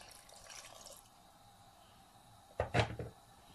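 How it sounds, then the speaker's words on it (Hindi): A little water goes into a clay pot of meat set on a lit flame: a faint, soft trickle, then a brief, louder splash near the end. "इसके अंदर मैं थोड़ा सा पानी ऐड करूँगी।"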